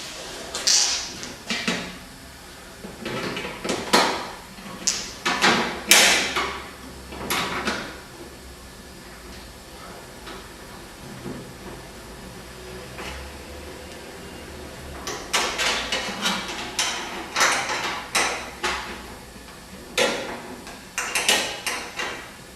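Small 30 by 6 Mexican head screws are driven by hand into tight pre-drilled holes, giving repeated squeaky, grinding bursts in irregular clusters with quieter pauses between them.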